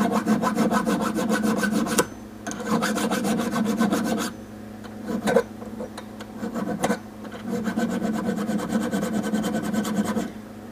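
A hand file rasping an edge of a metal KWA LM4 airsoft bolt catch clamped in a small vise, close rhythmic back-and-forth strokes in several runs separated by brief pauses.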